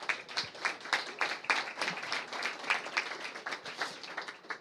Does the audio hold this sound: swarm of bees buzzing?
no